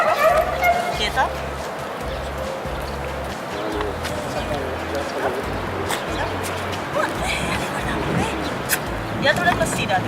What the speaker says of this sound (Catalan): És una gossa molt joveneta, per 8 mesos.